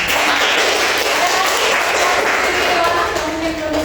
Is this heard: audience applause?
yes